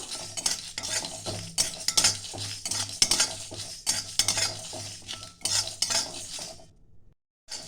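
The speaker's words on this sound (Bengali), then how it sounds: "1 চামচ জিরে, 1 চামচ ধনে। এটাকে আমি ভেজে নেব হালকা।" Cumin and coriander seeds with dried red chillies are dry-roasted in a pan, a spatula scraping and stirring in quick, rhythmic strokes that stop abruptly, leaving a brief silence at the end.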